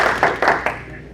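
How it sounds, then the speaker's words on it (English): Brief hand clapping at a Rotary Club meeting for visiting members from the Greater Utica Sunrise Rotary Club, a few close, distinct claps in quick succession that fade out within about a second. "Let's give them a big round of applause."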